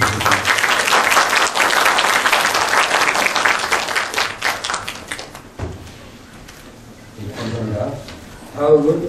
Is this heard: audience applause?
yes